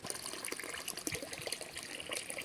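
Water pours and trickles at the base of a coconut tree during watering, a soft, fairly faint continuous splashing with small irregular gurgles and no voices.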